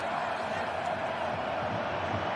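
Football stadium crowd at a World Cup match between Japan and Brazil, a broad steady roar of many fans swelling after a chance, continuous and distant-sounding, with a commentator's voice faintly underneath.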